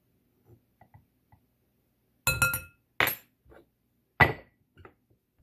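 A teaspoon clinks sharply against a bowl while sugar is added for bannock dough, giving three bright metallic taps with soft small knocks between them.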